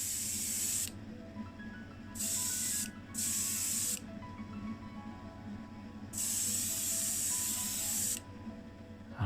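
Spray can of Tamiya acrylic paint misting onto a Hot Wheels van body, three or four sharp hissing bursts of a second or two each separated by short pauses, close and clear with no talking.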